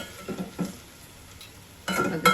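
Potatoes and flat beans being stirred in a pan, a few scraping spoon strokes over a faint sizzle, then a louder clatter of stirring near the end; no one speaks.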